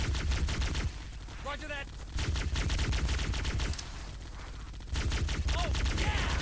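A gunner lays down cover fire in Halo: Combat Evolved on the Silent Cartographer level, a fast, dense rattle of automatic shots in sustained bursts, with brief radio chatter heard between them.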